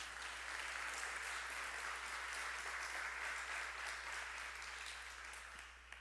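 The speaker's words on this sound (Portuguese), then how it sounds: "aplauda bem forte o nome de Jesus" Church congregation applauding after a prayer, a continuous dense roar of clapping from many people, distant and even, with a low steady hum underneath, tapering slightly at the end.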